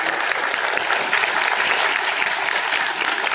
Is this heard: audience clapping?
yes